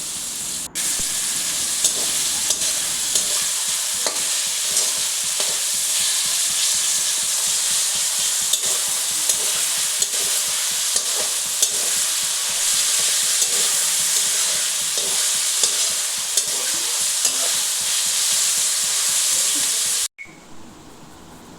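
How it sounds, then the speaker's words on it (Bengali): Sliced onions fry in a hot pan with a pinch of salt and a few sugar grains, a loud continuous sizzle broken by rapid, regular scraping strokes of a spoon stirring them. "এবার পেঁয়াজে অল্প করে একটু লবণ দিয়ে দিলাম, দিয়ে আর একটু ভাজবো।"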